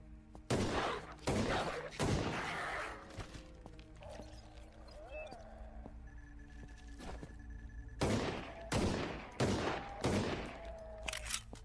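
Gunfire in a horror video game: bursts of rapid shots in clustered volleys, a lull, then another string of loud shots, with a voice talking in the background.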